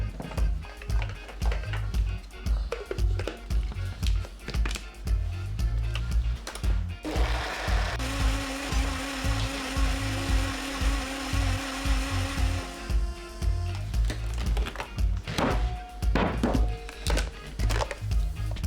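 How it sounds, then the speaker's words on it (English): A kitchen blender whirs loudly as it purées fresh coconut with two cups of water for coconut milk, a steady motor roar in the middle stretch framed by clunks and knocks of handling before and after. "Time to blend up the coconut and extract the juice."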